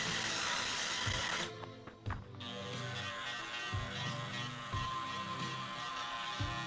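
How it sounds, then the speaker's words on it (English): A rug trimmer fitted with an acrylic levelling plate cutting down a tufted rug, with a close, steady buzzing motor that briefly cuts out and then resumes, bumping as it passes over the pile. "I have this rug trimmer, along with a acrylic plate that goes into it and makes it so it's nice and level."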